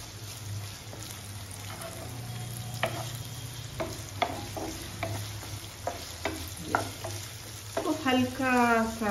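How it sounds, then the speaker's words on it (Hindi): Green chilies stir-frying in a pan for beetroot kebab, a steady sizzle broken by repeated sharp scrapes and stirring knocks, with a soft hum underneath and a brief louder rattle near the end. "हल्का सा अराउंड 1 मिनट भी नहीं लगेगा, हम हल्का सा स्टर फ्राई कर लेंगे।"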